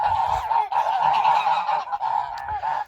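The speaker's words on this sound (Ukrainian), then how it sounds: "Гусочка, гусочка, три гусочки і гусак." Geese honking loudly and continuously, several birds calling over one another close by with short breaks, no talking.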